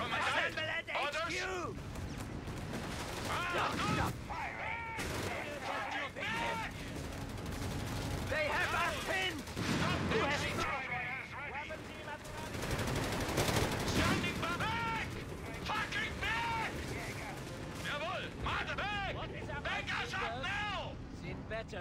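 Video game gunfire rattles in dense bursts and machine-gun volleys with scattered explosions, mixed under battlefield voices and shouted orders. The sound stays busy and steady throughout.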